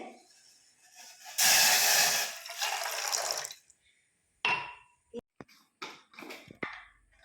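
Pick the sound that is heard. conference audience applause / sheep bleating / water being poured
water being poured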